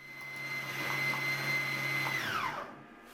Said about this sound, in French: Sur l'icône de la fonction hacher et appuyons sur le bouton de démarrage